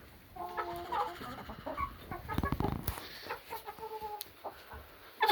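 Hens squabbling and pecking at each other in a flock, with a buff rooster nearby, let out a steady stream of agitated clucks and squawks at close range, rising to a louder burst near the end.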